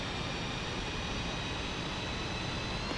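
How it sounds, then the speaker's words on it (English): F-5E jet engine idling up in the DCS flight simulator, a continuous, even turbine roar with a faint steady whine, constant in loudness throughout and without any talk. "When the throttle is set to the idle position, fuel is supplied to the engine and will reach idle RPM within 35 seconds"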